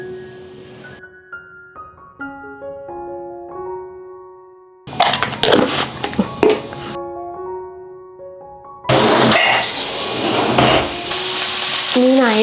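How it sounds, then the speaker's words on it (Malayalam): Dried fish fries in an iron pan, starting with a few rustling bursts and then settling into a loud, dense sizzle, with music playing during the opening stretch. "കുറച്ച് ഉണക്കമീനും കൂടെ വറക്കുന്നുണ്ടേ"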